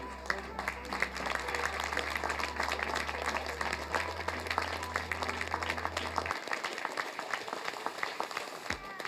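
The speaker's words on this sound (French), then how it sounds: "Et ceux qui sont là, ils vont applaudir le reste des équipes." At a hackathon awards ceremony, a crowd applauds the winning teams with steady, dense clapping across the whole stretch, a low hum underneath that cuts out partway through.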